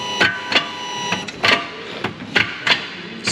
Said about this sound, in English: Now that is the actuator on the side of the gearbox there.